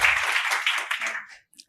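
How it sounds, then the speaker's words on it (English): Audience applause for a keynote speaker at a conference, a dense wash of clapping that swells and then fades out, leaving a few faint scattered claps at the end. "A big round of applause for Ariel,"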